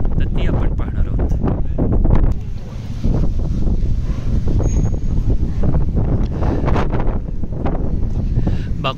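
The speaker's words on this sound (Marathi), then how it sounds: "भरपूर वारा नेहमी वाहत असतो अगदी जोराचा." Strong wind blowing at the Ateshgah fire temple near Baku, loud and close, buffeting the microphone in steady gusts with rumbling bursts throughout.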